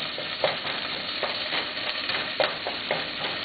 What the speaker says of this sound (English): I've got one chopped up Spanish onion, coarsely chopped. So I'm just going to